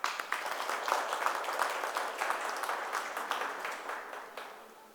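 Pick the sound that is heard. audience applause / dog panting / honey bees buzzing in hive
audience applause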